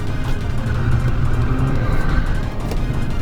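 A 2021 Alfa Romeo Giulia drifting on a twisty canyon road, its engine droning loud and close from inside the cabin with a continuous roar and faint tire noise, no speech heard.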